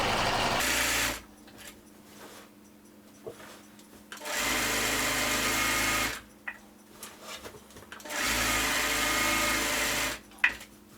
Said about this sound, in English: it just comes right through the sewing machine.